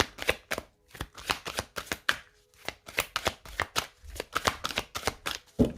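Oracle cards are shuffled and cut by hand in a string of quick, crisp riffles and slaps, loud and close and repeating steadily with short pauses between bursts.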